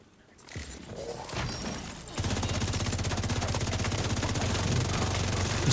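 Video game gunfire, a quiet opening with a few scattered clicks and shots, then from about two seconds in a rapid, sustained automatic burst that holds loud and steady to the end.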